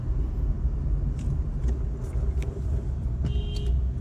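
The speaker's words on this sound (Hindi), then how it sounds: "शहर में चल रही है ये गाड़ी और एसी के साथ चल रही है" Inside a Honda City car driving through city traffic with the AC running, a steady low rumble of engine and road noise continues, with faint clicks and light rattles on top.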